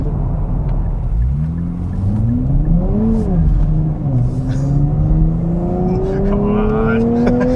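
A manual Nissan's engine pulls hard under acceleration, its tone climbing, dipping at a shift, then rising steadily again with road rumble beneath, heard from inside the car while a driver talks over it.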